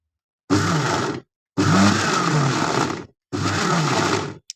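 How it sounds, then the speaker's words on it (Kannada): An electric mixer grinder churns onion chutney in three loud whirring bursts, each roughly a second or so long and separated by short silent pauses, the motor droning steadily during each run. "ಇವಾಗ ಇದು ಗ್ರೈಂಡ್ ಮಾಡ್ಕೊಳ್ಳೋಣ"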